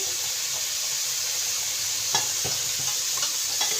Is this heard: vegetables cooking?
yes